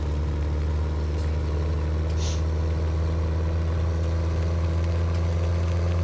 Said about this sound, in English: let's go ahead and get back in our tractor and take this beauty a little more ways down to